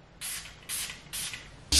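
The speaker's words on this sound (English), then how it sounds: "the sound of this spray bottle sounds so good to my ears" Three quick, hissing bursts from a plant spray bottle misting water, evenly spaced and close up, followed by a louder clatter at the end.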